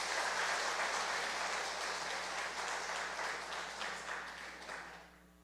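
A church congregation at a Sunday harvest thanksgiving service bursts into loud applause that holds steady, then gradually fades out over several seconds in a large indoor room, with no talking.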